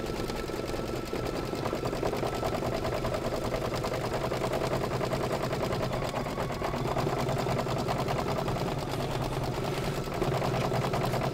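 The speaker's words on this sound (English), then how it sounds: "So much fun just to watch our machine stitch out" An embroidery sewing machine stitches out a holiday gnome design on a tea towel, giving a loud, fast, unbroken mechanical rattle that holds steady and close throughout.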